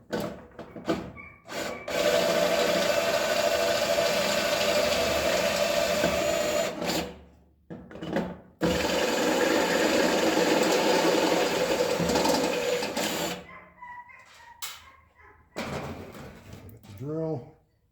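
Power drill boring a hole in the metal case of a toaster oven being converted into a powder coating oven, running in two long loud bursts with short stops and handling noises between them.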